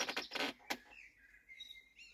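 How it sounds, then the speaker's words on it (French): Blackbird singing nearby, its clear whistled phrases rising and falling for about a second after a short burst of other noise. "je pense que c'est un petit merle"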